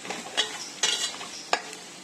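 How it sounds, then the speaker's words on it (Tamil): Crab masala with turmeric and spice powder fries in oil, a steady sizzle broken by three or four sharp scraping stirs of a spoon against the pan, close and alone. "மஞ்சள் தூள் எல்லாம் சேர்த்து இந்த எண்ணெயிலே நல்லா வதக்கிக்கலாம்"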